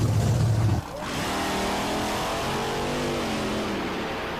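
A 1,500-horsepower monster truck drives with a loud, steady engine roar; a brief low burst at the start gives way to a sustained rising growl.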